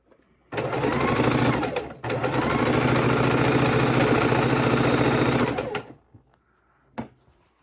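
Sewing machine stitching colorful quilt squares made from precut 2.5 inch squares and layer cakes, a loud, close, rapid whirring run with a brief pause near the start, then stopping, followed by a single soft click.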